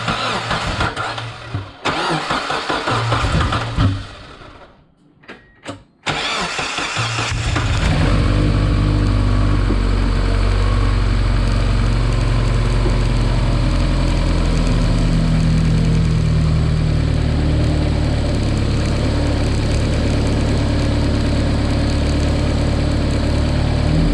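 A Mazda Miata engine with an eBay turbo kit cranks and catches after some handling noise, then settles into a loud, steady, rumbling idle that continues to the end.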